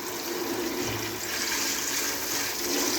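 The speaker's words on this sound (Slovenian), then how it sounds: "Jaz kad takole vodo noter natočim." Water rushes steadily into a container during home sausage and salami curing, a continuous broadband splashing flow of even loudness with no talk.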